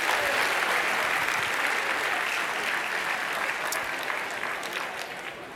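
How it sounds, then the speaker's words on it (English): A main-stage conference audience gives a roundtable leader a big, sustained round of applause, loud and dense from the start and easing slightly toward the end. "Why don't we give your roundtable leader a huge round of applause?"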